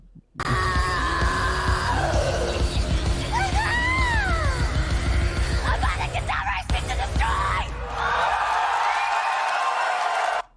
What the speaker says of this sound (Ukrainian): це чи крик, чи скрімінг